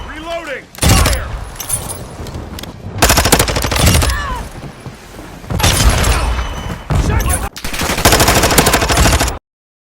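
Automatic rifle bursts in Call of Duty: Modern Warfare II, several loud rapid volleys separated by short gaps, with a player shouting over them.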